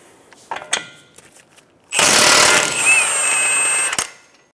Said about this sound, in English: Using a 32 millimeter socket on an impact,